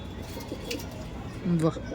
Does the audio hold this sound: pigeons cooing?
yes